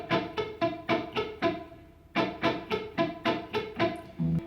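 Guitar solo picking pattern, played at full speed: bright, evenly spaced plucked notes ring out in a steady repeating rhythm, pausing briefly before the pattern starts again, close and clear with no talking.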